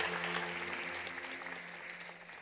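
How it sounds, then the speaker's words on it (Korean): Church congregation at a Sunday service claps in welcome, a faint, even patter of many hands that slowly fades, with a low organ-like tone lingering underneath. "여러분께 박수로 환영하시지요?"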